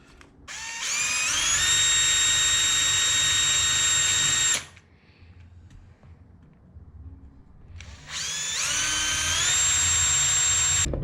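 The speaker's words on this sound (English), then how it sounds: "We drilled pilot holes to go into this wood" An electric power drill bores pilot holes into plywood while building a wooden cajon, two loud, sustained whining bursts spinning up quickly, separated by a few seconds of quiet.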